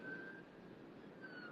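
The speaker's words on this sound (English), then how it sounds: "That was an ambulance, not a fire truck this time." A distant ambulance siren wails steadily in the background over low traffic rumble, faint and continuous with no talking.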